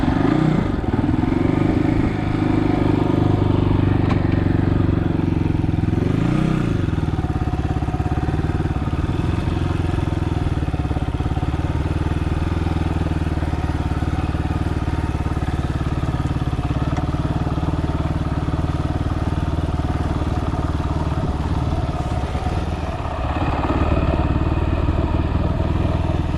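A Fantic Casa 250 EFI motorcycle is ridden on the road, its engine droning steadily up close under loud wind rush, with brief shifts in revs and no talking.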